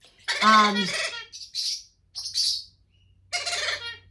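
A four-month-old Pionus parrot gives a loud harsh squawk, then several short bright chirps and whistles in quick bursts with brief pauses, heard close and alone.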